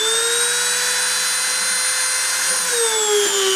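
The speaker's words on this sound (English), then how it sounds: "I'm going to start the spindle and start the deposition" A CNC spindle spins up to start a deposition run, giving a steady high-pitched whine with a strong tonal hum that holds constant throughout, then dips slightly in pitch near the end, loud and close with no talking.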